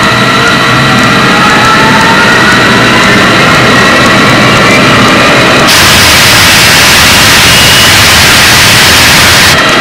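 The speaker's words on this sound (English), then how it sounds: "Okay, engines at 3/4 throttle." Jet airliner engine, the same model used on Southern Airways 242, running at three-quarter throttle in a water-ingestion test, a loud continuous roar with a high whine that brightens partway through.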